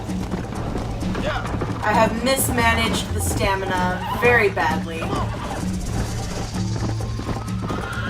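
A horse in Red Dead Redemption gallops with steady hoofbeats and gives loud, close, drawn-out whinnies in the middle, while someone talks over it.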